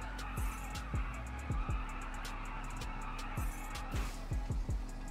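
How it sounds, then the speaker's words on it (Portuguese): Motorcycle tires skid in GTA 5, giving repeated sharp squealing bursts over a steady engine drone, about a dozen quick skids spaced irregularly across the stretch. "Patinada de moto."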